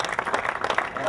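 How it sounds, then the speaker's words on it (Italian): Applause from an audience for the mayor and deputy mayor at a football club's season presentation, a moderate wash of clapping with a voice talking over it. "facciamo un applauso a sindaco e vice sindaco per la loro presenza"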